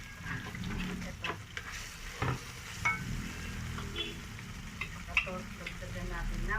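Spicy chicken feet stir-fried with oyster sauce, a low continuous sizzle broken by clinks and scrapes of a spoon or spatula against the pan.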